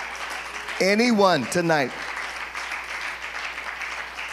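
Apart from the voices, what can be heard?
congregation clapping hands in praise at church sermon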